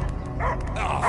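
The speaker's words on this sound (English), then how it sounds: "I hear only barking" A dog barks and yips in a short, close, loud burst within a tense scene, with a voice murmuring faintly beneath the bark.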